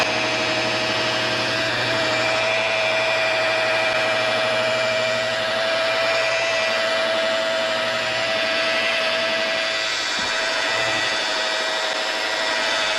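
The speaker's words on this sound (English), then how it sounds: "I like to take the buffer and just kind of smear that stuff around." A power buffer runs steadily while polishing dull paint on a cheap used car, a continuous close motor whine with rubbing pad noise that holds nearly constant throughout, with no talking.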